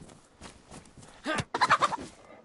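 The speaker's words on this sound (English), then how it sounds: "let's find that chicken" A chicken in DayZ gives a few close, clucking and gobbling calls that build into a louder burst near the end, over a quiet background.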